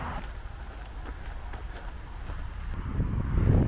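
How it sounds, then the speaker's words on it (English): Strong wind blows across an industrial area on the city outskirts, a continuous rushing buffet against the microphone that swells louder toward the end, with no one speaking. "Very windy today."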